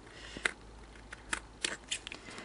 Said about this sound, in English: I think I might just tidy up that piece there with a pair of scissors